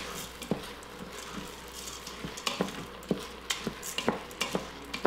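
Arborio rice is stirred in an Instant Pot on the sauté setting, producing a faint hiss beneath rhythmic spoon clicks and scrapes against the inner pot, with no one talking.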